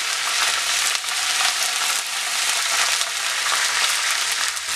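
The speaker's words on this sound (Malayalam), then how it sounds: "അതിലേക്കൊരു 4-5 വറ്റൽമുളകും കുറച്ച് കറിവേപ്പിലയും കൂടെ ഇട്ട് കൊടുക്കാം." Dried red chilies and curry leaves hit hot sesame oil with popped mustard seeds for an instant mango pickle, producing a loud, dense, continuous sizzle that stays close and even throughout.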